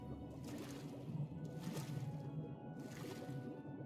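Swimming through water in The Elder Scrolls Oblivion, with soft rhythmic sloshing and splashing that swells in about three slow strokes over a steady watery wash.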